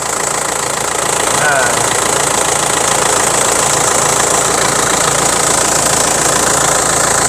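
An Isuzu Dragon Eye pickup's engine running at idle, a loud, steady, close mechanical drone with a constant knocking rattle and no break throughout.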